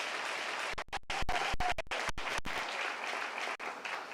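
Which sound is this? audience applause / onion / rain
audience applause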